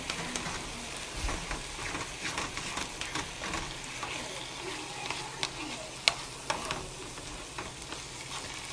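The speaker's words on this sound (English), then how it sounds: "I've just added my egg to the mix. I'm going to stir it around." Egg is stirred around a frying pan of stir-fried cauliflower rice: a soft, continuous sizzle broken by scraping stirs and a few sharp utensil clicks, close and moderately quiet.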